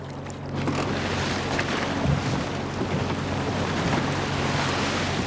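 Rough seas pound a skate fishing boat out on the ocean, a steady roar of wind and crashing waves with engine rumble underneath, loud and continuous with no voices.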